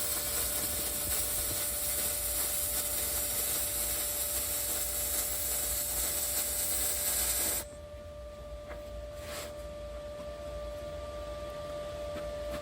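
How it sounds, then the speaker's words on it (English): Arc welding on a reverse flow smoker build, a steady broadband crackling hiss that runs unbroken for about seven and a half seconds, then drops to a quieter hum with faint brief clicks, with no talking. "Went ahead and got it put together and I'm welding it out."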